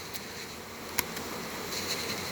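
Faint, steady honeybee buzzing hums throughout, with a brief click near the middle; no voices.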